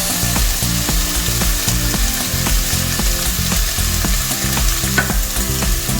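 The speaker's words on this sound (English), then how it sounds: "At this point, I'm going to add my garlic." Garlic fries with browned pork in a pan for pork adobo with coconut milk, a loud continuous close sizzle broken by rapid scraping and clattering from stirring.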